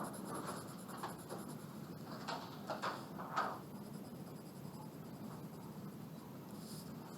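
A 4B graphite pencil shades across paper with soft, steady scratching strokes close to the ear, a continuous rasp that stays quiet throughout.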